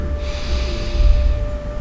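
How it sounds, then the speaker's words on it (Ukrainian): A slow, deep inhale through the nose during yoga breathing practice, sustained and fairly close, with a soft airy hiss that holds steady over a low background hum. "І постійно глибоко дихаємо."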